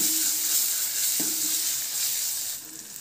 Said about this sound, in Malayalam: ഇതിലേക്ക് നമ്മൾ കുക്ക് ചെയ്ത് വെച്ചിട്ടുള്ള കത്തിരിക്ക ചേർത്ത് കൊടുക്കാം. എന്നിട്ട് ഇതെല്ലാം കൂടി നന്നായിട്ടൊന്ന് യോജിപ്പിച്ചെടുക്കാം.